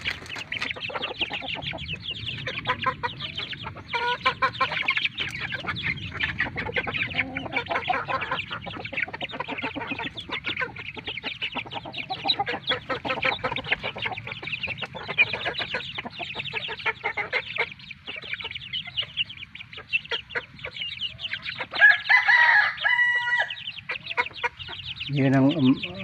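A flock of chickens with a white hen and eight chicks clucks busily close by, and a rooster crows loudly near the end, with people talking now and then in the background.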